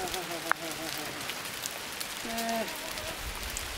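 Hail falling on the Triund trek in the Dhauladhar hills above Dharamshala, a dense, steady patter on surfaces nearby, with faint voices and birdlike chirps in the background.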